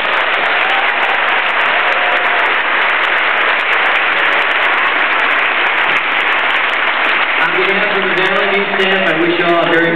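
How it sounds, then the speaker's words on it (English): Audience applause for second- and third-grade children after their performance at a Christmas concert, a steady dense wash of clapping lasting throughout, with some voices emerging near the end. "big applause for the kids"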